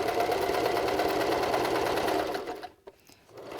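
A sewing machine runs steadily at high speed while stitching elastic onto a reusable fabric face mask, then stops for a moment and starts up again near the end.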